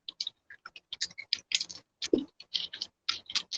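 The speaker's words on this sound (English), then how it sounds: "Now again, I am typing my name" Rapid clicking of keys on a computer keyboard as a teacher types a name and closing address, a steady run of crisp, close taps with brief pauses between bursts, alone with no talking.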